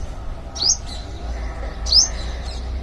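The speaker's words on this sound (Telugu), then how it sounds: "ఇంకా పక్షి వచ్చింది చూడండి" A bird visits a hanging bamboo basket feeder coated with paper pulp and gives two short, high chirps about a second apart, fairly near, over a quiet outdoor background.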